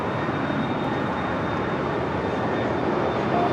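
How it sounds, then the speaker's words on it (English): A Delta Airlines Airbus A320, an older ex-Northwest jet, rumbles steadily at LAX with a continuous broadband engine roar and a faint high whine, fairly loud and unbroken, with no voices. "Delta Airlines flight 306 coming from Austin, Texas on this older Northwest Airlines A320."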